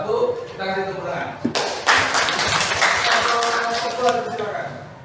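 An audience in a classroom claps for a group presentation, a burst of applause that rises sharply after a quiet spoken lead-in and fades toward the end, with voices mixed in.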